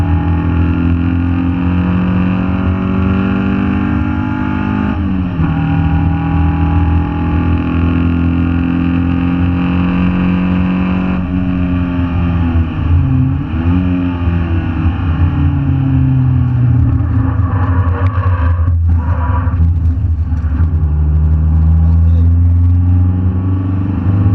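A Toyota MR2 lapping Donington race track, its engine droning loud and steady with a strong tonal hum that rises and falls as revs shift through corners, with no voices.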